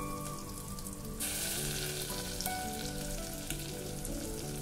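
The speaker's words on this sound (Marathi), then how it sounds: "हे छान मिक्स करून घ्यायचं आणि हे छान परतून घ्यायचे आपल्याला" Spice paste for egg curry frying in oil in a pan, a steady close sizzle with light crackling and stirring throughout.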